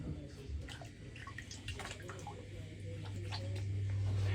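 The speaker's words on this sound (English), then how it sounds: "I'll rinse my face and we'll lather back up." Faint water splashes and drips at a sink as a face is rinsed during a wet shave, soft and irregular, with a low hum growing louder underneath.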